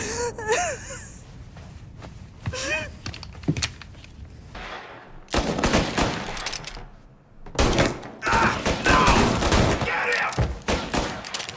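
Gunfire in the video game Mafia: Definitive Edition comes in loud, dense bursts of rapid shots, broken by short gaps. Brief voices and thuds are heard early on.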